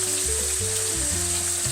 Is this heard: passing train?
no